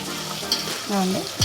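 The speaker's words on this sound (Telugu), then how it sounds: "అల్లం పచ్చిమిర్చి టమాటా ఉల్లిపాయ అన్నీ వేసి వేయించుకోవాలి" Green chilies, ginger, onion and tomato frying in a pan for old-style broken-rice upma, a steady close sizzle with brief scraping stirs and a short clatter near the end.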